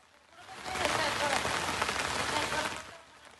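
Heavy monsoon rain falls in flood-hit Feni, Bangladesh, a dense, continuous hiss of drops on surfaces that swells, holds steady, then eases at the end.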